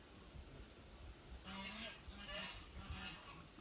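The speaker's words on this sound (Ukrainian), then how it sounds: "Кричащі птахи." Loud honking bird calls, goose-like, repeat three or four times over a low background rumble, fairly close, at a farm with chickens.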